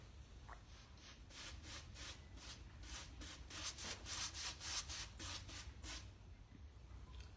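Brush applying a first coat of liquid rubber waterproofing inside a homemade water feature, a quiet series of rhythmic rubbing strokes, about a dozen back-and-forth swipes close by.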